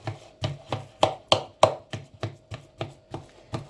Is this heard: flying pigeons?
no